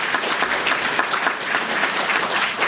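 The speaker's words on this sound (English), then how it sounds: "So I would like everybody to give a round of applause to Norwescon's newest lifetime member, Catherine Bond." An audience at the Philip K. Dick Awards ceremony applauds steadily, a dense roomful of clapping hands that holds at an even level throughout.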